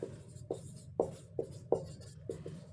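Chalk or marker writing on a board during a Hindi literature class, a series of about seven crisp tapping strokes spaced roughly half a second apart, close and clear with no talk.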